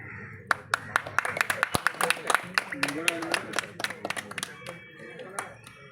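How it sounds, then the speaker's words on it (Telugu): Scattered, uneven hand claps from an audience at a celebration of YS Rajasekhara Reddy's 75th birth anniversary in Polavaram, sharp individual claps rising and thinning out over a murmur of voices. "క్లాప్స్."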